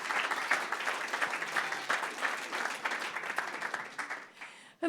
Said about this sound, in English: let's just have a round of applause for them